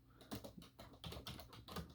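Fingers type on a computer keyboard in a quick, irregular patter of keystrokes, close but quiet, with no voices.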